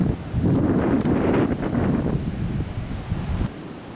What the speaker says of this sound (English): Definitely windy here today.